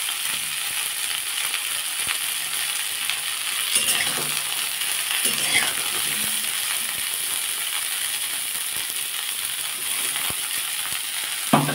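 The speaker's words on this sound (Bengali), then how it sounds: "এবার আমি ওই তেলের মধ্যেই এই বকলিগুলো একটু ভেজে নেব।" Broccoli frying in oil in a pan after fish, a soft continuous sizzle with occasional clinks and scraping, fairly quiet and steady without speech.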